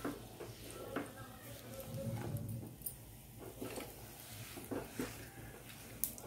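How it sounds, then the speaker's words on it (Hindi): Seedless black dates frying in hot ghee in a pan give a soft continuous sizzle, with intermittent stirring scrapes and light clinks, close and quiet. "अब ये घी अच्छी तरह से गर्म हो चुका है, यहाँ पे मैंने खजूर लिया है, इसके अंदर बीज नहीं है। अब इसे अच्छी तरह से हम फ्राई कर लेंगे।"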